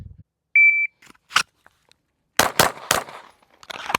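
A shot timer beeps three times, then a Glock 19X pistol fires a handful of sharp, loud shots in quick pairs and singles over a few seconds, with short silences between them.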